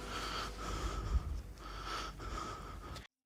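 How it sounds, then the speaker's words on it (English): Heavy, raspy breaths repeat in a rhythmic pattern within a dark narrative song, rising and falling several times with a low thump, before cutting to silence near the end. "That breathing sound that he's doing"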